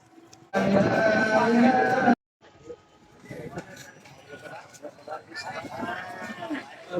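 A cow lets out a loud, drawn-out moo at a cattle market, followed by a busy murmur of people and livestock nearby.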